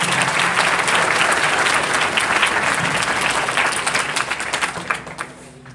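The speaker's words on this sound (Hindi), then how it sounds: "मैं आपसे अनुरोध करता हूं कि आप एक बार जोरदार तालियां बजा दें" Loud, sustained audience applause at a Republic Day celebration, dense steady clapping from many people that holds strongly for several seconds and then fades out near the end.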